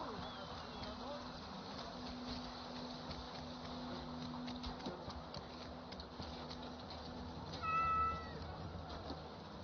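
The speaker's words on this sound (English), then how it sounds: "Oh, I can pet the cat." A cat meows briefly in the Skyrim video game, a short tonal call late in the clip over steady background game ambience and music.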